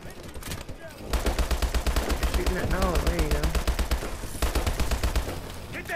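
Rapid automatic gunfire from the Call of Duty Advanced Warfare campaign mission Armada, a loud sustained burst of evenly spaced shots after a short lead-in, with someone talking over part of it.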